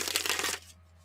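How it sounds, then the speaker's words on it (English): Tarot cards are riffled in one quick, crisp shuffle that lasts about half a second, close and alone, before fading into near silence. "I have to obsessively shuffle for at least, at least 10 shuffles."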